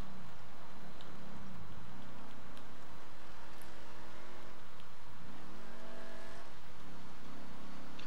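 A car engine in GTA 5 Online, revving and accelerating through rising gear tones with a dip and a fresh climb, heard close and steady against a constant rush of road noise.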